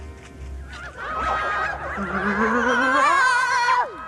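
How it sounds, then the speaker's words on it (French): Excited hens, a dense overlapping chorus of squawks and cackles rising in intensity, close and loud, with sharp honk-like cries before ending abruptly, from a 1987 animated series. "tu ne reconnais plus le cri de tes propres poules?"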